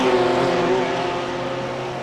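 Porsche race car on the Road America circuit during an Australian sports car championship race, a loud sustained high-revving engine whine that holds steady and slowly fades slightly as it passes, with other cars droning underneath.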